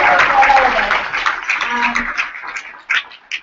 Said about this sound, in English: So I just want a round of applause for Megan.